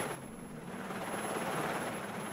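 A helicopter flying past outside an eighth-floor window gives a faint, steady, distant rotor drone with no other sounds.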